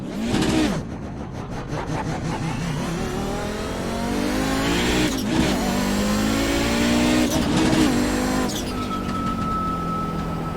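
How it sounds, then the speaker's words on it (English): An Audi 90 GTO race car in iRacing, its 2.2-liter 720-horsepower inline-five engine howling continuously up close, revving high and dropping sharply at each gear shift, with a raspy, buzzy snarl. "I love the sound of this car."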